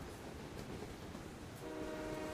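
A train in the video game West of Loathing rumbles steadily along, with a dense, continuous rolling clatter that swells slightly and picks up a faint sustained tone near the end, with no voices.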